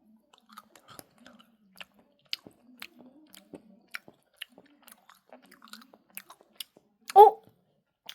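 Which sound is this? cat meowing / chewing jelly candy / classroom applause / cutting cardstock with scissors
chewing jelly candy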